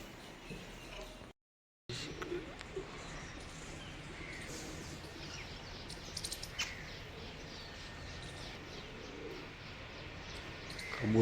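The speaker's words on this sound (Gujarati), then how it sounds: "કબૂતરો ચણખાય છે." Pigeons cooing and pecking at scattered grain near a temple, soft low coos and faint chirps over a steady outdoor hum, with a brief dropout early on and a louder burst at the very end.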